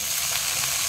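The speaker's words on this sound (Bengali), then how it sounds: "তেল গরম হয়ে গেছে। আমি এবার যে আলুগুলো কেটে রেখেছিলাম সেগুলো আমি দিয়ে দিচ্ছি।" Cut potatoes and papaya sizzling in hot oil in a pan, a dense, steady fry hiss that is loud and close, with no voices.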